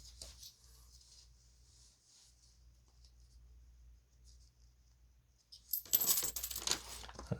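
Old coins from a bank roll tumbling and clinking as they are flipped out, a faint scattered rattle at first, then a loud burst of jangling coins near the end.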